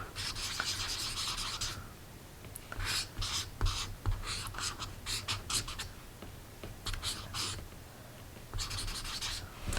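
A marker tip is rubbed back and forth on paper to clean off colored pencil, giving repeated close scratchy rubbing strokes in bursts with brief pauses and a low steady hum underneath.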